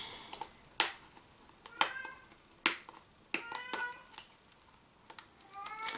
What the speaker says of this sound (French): Les chats, ils chialent